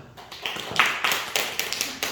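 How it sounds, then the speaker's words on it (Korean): Scattered audience clapping in a church gathering after an award announcement, a handful of sharp, uneven claps building and then thinning out, close and fairly loud. "우리 박수 한번 합시다"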